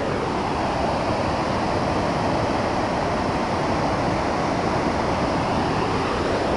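Small mountain waterfall on a trekking route near Bishkek through Kegety and Kol-Tor, a steady, dense rushing of falling water with no breaks, loud and continuous throughout, with no voices.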